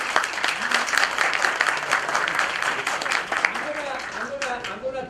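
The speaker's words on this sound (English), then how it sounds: "Can we give a round of applause to our partner?" Audience applause at a corporate talk by a refrigeration company CEO: a steady, dense burst of clapping from a seated crowd, loud and sustained for several seconds, with a voice briefly audible beneath it near the end.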